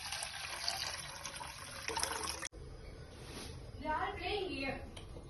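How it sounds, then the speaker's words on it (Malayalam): Rice being washed in water in a pot in a home kitchen, with steady sloshing and trickling water, a brief pause, then swirling, splashing handling of the grains. "അരി കഴുകിക്കൊണ്ടിരിക്കുന്നത് കേട്ടോ"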